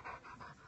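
A pet dog pants close by in short, rapid breaths, with a faint whimper mixed into the steady huffing and no talk over it.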